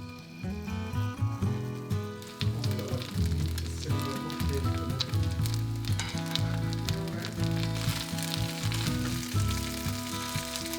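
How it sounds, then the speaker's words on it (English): Turnip cake pan-frying in a couple of tablespoons of oil over medium-low heat gives a steady crackling sizzle that runs throughout, partly under a loud music bed. "fry the turnip cake on both sides until crispy"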